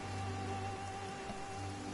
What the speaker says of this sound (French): Il pleut, je peux pas allumer.